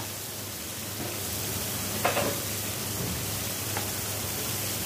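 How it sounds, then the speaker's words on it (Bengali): Onion paste dropped into hot oil in a pan gives a steady, loud sizzle that holds throughout, with a brief burst of crackling partway in and no voices. "এখন দিয়ে দিচ্ছি পেঁয়াজ বাটা"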